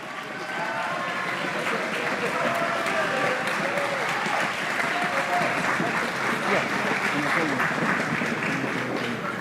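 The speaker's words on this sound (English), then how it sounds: "let's give them one more round of applause for earning their letters" Sustained audience applause fills a school band concert in spring 2024, a dense, steady wash of many hands clapping that continues for about nine seconds with no voices on top.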